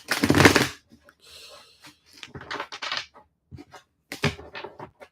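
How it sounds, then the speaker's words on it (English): Tarot cards being shuffled by hand in bursts, a loud riffle first, then a run of softer irregular snaps and flutters with short pauses between them. "I'm going to shuffle real quick first, though."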